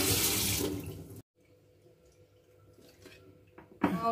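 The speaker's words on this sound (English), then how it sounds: "Rinse it well so that no soap or any kind of soap smelling will remain on the metal." A metal grill toaster part is rinsed under running water, with a loud splashing flow at the start, a quiet stretch with faint clinks, then the water gushing again at the end.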